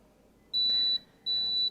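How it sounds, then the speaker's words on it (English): A Singer Momento heat press sounds its ready signal, two steady high electronic beeps of about half a second each, separated by a short pause and clear against a quiet room. "I love the beep. That says it's ready to go."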